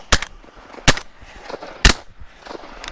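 A 28 gauge shotgun fires three loud, sharp shots at teal over a flooded cornfield, spaced roughly a second apart, with no talk between them.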